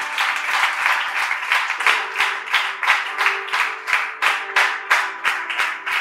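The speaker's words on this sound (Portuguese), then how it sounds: "Levante suas mãos lá no alto e aplauda o Senhor no nome de Jesus" A church congregation claps together in a steady rhythmic beat, loud and close, with a sustained wash of applause and a faint tonal hum beneath.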